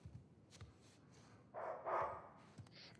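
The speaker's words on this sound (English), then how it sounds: "God, that dog is impatient." A dog barks in the Uncharted 4 video game, a couple of short, fairly close barks against a quiet background, with no talk.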